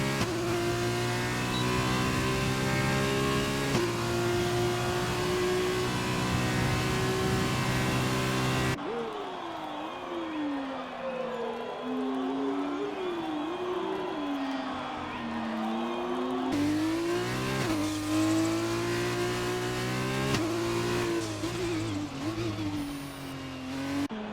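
A race car screams through the final sector at Sakhir in a racing game, its engine whining loud and steady with pitch rising and dipping through gear changes and corners, alongside a second car's tone and a voice talking over it.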